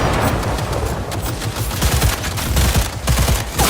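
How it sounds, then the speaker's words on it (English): Dense gunfire in Cyberpunk 2077, a loud, rapid fusillade of overlapping shots and bursts that continues without pause, close and heavy with booming low thuds. "I am taking fire!"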